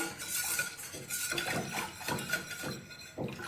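Spoon scraping and clinking in a pan while white sauce is stirred, a steady close-up rasp with repeated metallic taps over a continuous hiss, no talk.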